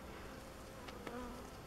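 Honey bees buzz steadily around a hive being split, a dense, continuous hum of many insects close by with a few brief louder passes.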